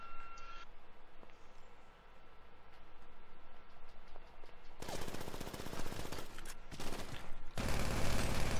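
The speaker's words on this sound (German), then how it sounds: "Kannst du mal da oben aufhören, auf mich zu schießen, Mann?" Gunfire in GTA V Online starts as faint, sparse background shots, then erupts into loud, rapid automatic bursts and a dense fusillade that cuts out briefly before resuming.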